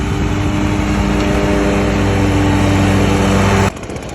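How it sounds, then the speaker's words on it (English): Engine of a Ferris 61-inch riding lawn mower runs loud and steady at close range with a constant droning hum, then drops abruptly in level near the end as if moving off or throttling down. "See, you can mow tiny yards with that big mower."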